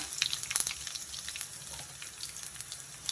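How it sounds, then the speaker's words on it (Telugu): Cumin seeds and crushed garlic sizzle in hot oil for a lentil rasam, a steady crackling fry with small pops, close up and without talk. "ఒక స్పూన్ జీలకర్ర, ఒక 3 వెల్లుల్లి చిత్తకొట్టు పెట్టుకున్నా వేసేసా. వెల్లుల్లి కూడా వేగిపోయింది చక్కగా."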